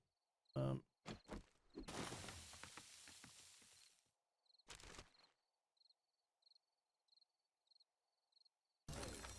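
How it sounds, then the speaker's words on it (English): Faint, regular cricket chirps in the game 7 Days to Die repeat in short bursts against a quiet background, interrupted by several louder clicks and rustling noises. "Hear them crickets."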